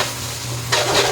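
Eggs frying in a pan for breakfast are stirred, a steady close sizzle that brightens with a scraping surge of stirring partway through, with no talking.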